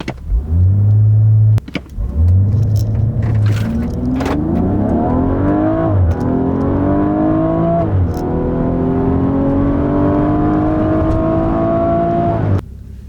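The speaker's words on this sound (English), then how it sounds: "push the brake pedal all the way down and floor the accelerator all the way until kickdown." A BMW M135i (F20, 8-speed ZF) on launch control with the accelerator floored: the engine roars up in loud, rising revs that hold and climb in stages, sustained close to the car.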